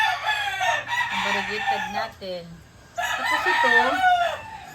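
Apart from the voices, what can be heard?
roosters crowing and chickens clucking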